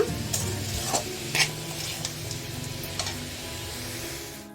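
Chickpea curry mixture sizzles softly over a low flame while a spoon stirs it, scraping and tapping against the pan in a few distinct strokes, close by and with no talk.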